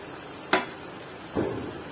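Potatoes tipped into a hot pan with cauliflower stems and leaves for a shrimp curry, two separate bursts of sizzling, the first sharp and brief, the second broader and fading, over a low steady frying hiss.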